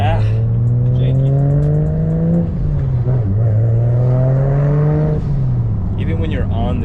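A BMW 335i with the N54 engine and an upgraded twin-disc organic clutch drives along, its engine note climbing, dropping at a gear change, then climbing again. The drone is loud and steady and fills the whole clip, with no talking.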